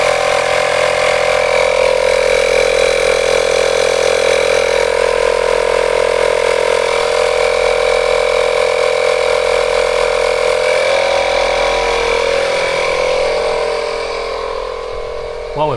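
A portable tyre inflator pumping air into the tyre of a BMW 318is, a loud, steady, droning buzz that holds constant close to the microphone and eases off slightly near the end.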